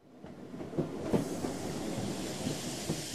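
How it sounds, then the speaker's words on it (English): Trains at a station: a rolling rail rumble with a soft hiss, punctuated by several distinct clacks of wheels over joints, moderately quiet and steady throughout, with no talking. "This is the train station. Look at the trains."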